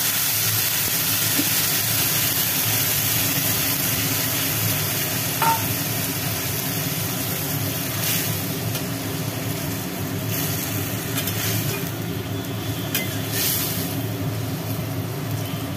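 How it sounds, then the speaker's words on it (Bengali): Cabbage cooking with spices in a pan gives off a steady close hiss and sizzle for the whole stretch, with a few brief brighter scrapes and no talking. "মশলাতে আর বাঁধাকপিতে ভালো করে কষিয়ে নিয়ে এইবার দিয়ে দেওয়া হলো হালকা করে জল।"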